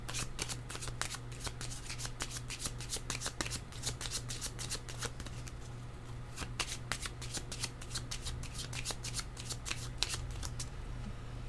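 Tarot cards are shuffled by hand in rapid bursts of crisp riffling flicks, close and continuous over a low steady background hum.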